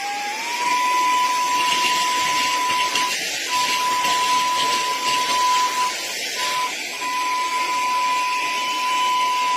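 A homemade mini vacuum cleaner runs steadily and loudly throughout, a strong whining motor hum with a constant high tone and rushing airflow, briefly fluttering a few times as debris or air is pulled in.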